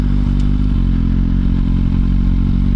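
A Suzuki GSX-R1000 sport motorcycle on the move, its engine a loud, steady, close drone with some clattery mechanical texture throughout.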